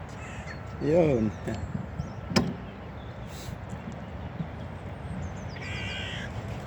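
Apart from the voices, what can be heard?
crows arriving to be fed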